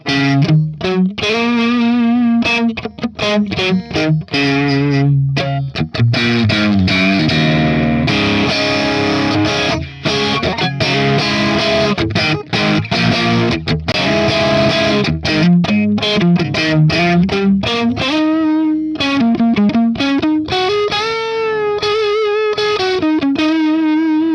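Distorted electric guitar played loud and continuous, riffing and bending notes through a modeled Marshall 1959 SLP Plexi amp with jumped channels, crunchy heavy drive and some chorus-like shimmer.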